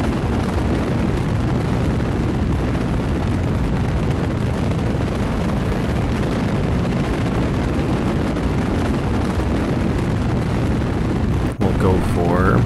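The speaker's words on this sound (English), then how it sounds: "Making lots of noise with those solid booster rockets on it." Solid booster rockets roar continuously during a launch in Kerbal Space Program, a loud, dense, unbroken rumble filling the whole stretch without any talk.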